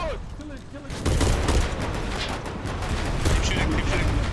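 Heavy gunfire from several weapons in Foxhole, hammering a super heavy tank: dense bursts of overlapping shots that start abruptly and carry on loud and steady, with an excited voice shouting over them.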